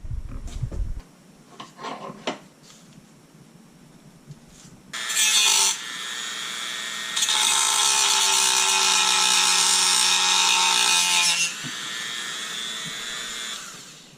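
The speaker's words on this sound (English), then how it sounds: "I'm starting to think this really is going to be a no-joke Dremel tool situation" A Dremel rotary tool cuts into the hard plastic valve cover of a Porsche 944S, a high whirring grind in two bursts, the longer one sustained and loud, after some faint handling clatter.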